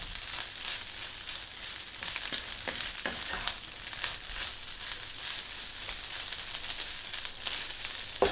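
Smoky jerky fried rice frying in a pan, a continuous crackling sizzle up close, with soft crunching and scraping as clumps of rice are broken apart.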